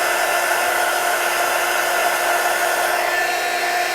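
A heat tool blows steadily while embossing powder is melted on a handmade card, a continuous close, loud airy whir holding an even level for the whole stretch with no talk.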